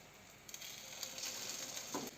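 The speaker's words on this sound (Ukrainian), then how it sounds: "На невеликому вогні будемо смажити нашу рибу." Fish frying in a pan over low heat, a steady hiss and crackle of hot oil with occasional louder pops, close and continuous.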